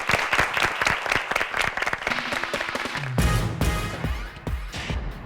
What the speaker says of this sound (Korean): 두 팀에게 박수 한번 부탁드립니다.